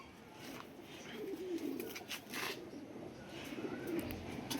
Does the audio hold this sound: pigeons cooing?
yes